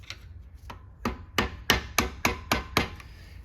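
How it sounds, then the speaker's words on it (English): Screwdriver tapped against a part of a Chevrolet Silverado 6L80 transmission, about ten sharp metallic knocks, close and loud, speeding into a steady rhythm after a few slower taps. "take a screwdriver and get right on the end of that. See if I can break it loose first"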